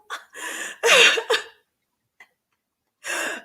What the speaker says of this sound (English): Can y'all hear him bubble snoring?